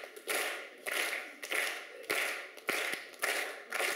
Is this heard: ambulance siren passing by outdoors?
no